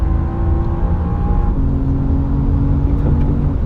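A BMW M4 CSL's engine roars loud and steady from onboard on the Nordschleife, its pitch climbing then dropping sharply at an upshift before pulling on at high revs.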